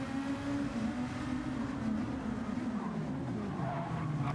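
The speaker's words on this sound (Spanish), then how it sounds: "acelera mucho, le pegan y termina el trompo completo" A race car skids and spins out after being hit during a Champions round, its engine a steady, loud drone with a continuous tire-on-surface roar holding throughout, no voices over it.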